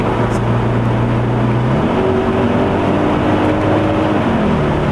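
An Audi RS6 engine pulls hard on the road, its loud, close roar climbing in pitch and then dropping sharply with quick automatic gear shifts, twice over a few seconds.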